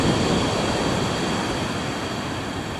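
Sea waves breaking on Chesil Beach at night: a steady, loud, broadband roar of surf close by with a continuous wash of water and some wind, no distinct individual breakers standing out.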